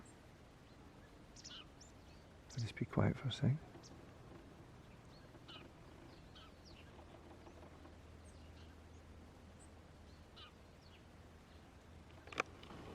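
Scattered faint bird chirps near Black Cave on the Isle of Arran, with a brief spoken remark early on and a steady low background hum.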